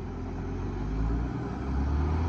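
Car engines idle and run near Sonamarg, on the road toward Kargil, a heavy, steady low rumble close by that swells slightly partway through, with no talk over it.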